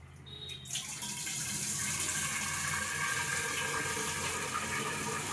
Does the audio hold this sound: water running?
yes